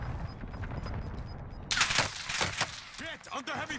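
Gunfire in a battle royale video game: rapid bursts of shots break out partway through, loud and close, with voices heard alongside the in-game action.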